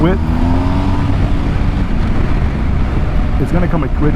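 A 2022 BMW R 1250 GS Adventure motorcycle engine pulls under throttle as the quick-shifter clicks it into gear, a close, steady roar with a brief higher rev near the end, while someone talks over it.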